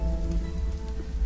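Steady, chilly, endless rain in the game Fatermyth, a dense continuous patter over a low rumbling bed with a faint tonal hum.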